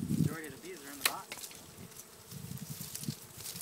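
Honeybee swarm being captured on a farm, buzzing around a hive box: a steady mid-pitched drone of many bees close by, with a brief loud close pass partway through and a low rumble later.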